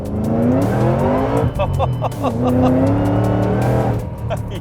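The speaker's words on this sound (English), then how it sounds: "Let me just jab it, second gear, see how it reacts." A 870 hp Ford Mustang GT500 accelerates hard in second gear, its engine note rising loud and close with tire squeal from wheelspin, while people talk over it.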